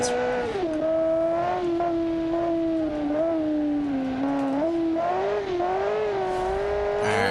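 A 1300HP car in BeamNG.drive launches off a clutch kick, its engine a loud, close, buzzy rev that wavers and climbs slightly in pitch, with brief dips, holding strong for several seconds.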